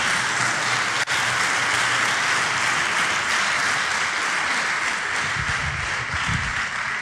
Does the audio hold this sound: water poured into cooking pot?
no